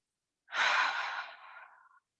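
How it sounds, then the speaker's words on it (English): One slow, audible breath during a children's yoga warm-up, drawn in through the nose and let out through the mouth. It rises quickly, holds, then fades gently, and sounds close and alone. "Breathing in through our nose and out through our mouth."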